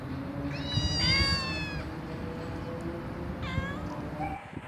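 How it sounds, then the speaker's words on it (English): A cat meows twice, a long drawn-out meow followed a couple of seconds later by a shorter one, over a low steady background hum. "C for cat."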